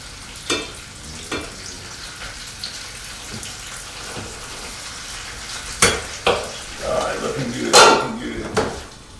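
Potatoes sizzle and fry in a pan, with scattered clatters and scrapes of utensils against cookware and a brief burst of running water.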